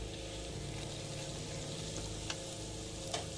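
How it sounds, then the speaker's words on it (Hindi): Red chili and garlic frying in oil for a fish curry make a steady, dense sizzle with soft stirring scrapes and a couple of sharper clicks near the end; no talking. "लाल मिर्च डाल रहे हैं,"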